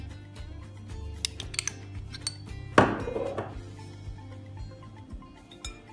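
A salad with parsley, dill and mayonnaise being stirred in a bowl: scattered light clicks and clatters of a utensil against the dish, with one louder scraping stir in the middle, close and alone.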